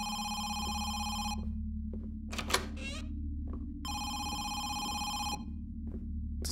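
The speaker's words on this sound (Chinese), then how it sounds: "楼下电话响了。" A telephone rings downstairs in the horror game Home Sweet Home, two long bursts of electronic trilling separated by a pause with a brief thump in between, over a low droning ambience.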